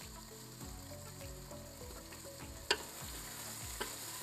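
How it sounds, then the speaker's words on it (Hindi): Finely chopped onion frying in a pot for lamb mandi, with a steady quiet sizzle and repeated scraping stirs, plus a sharp clink near the end. "इसको मैंने थोड़ी देर भुनाई करनी है"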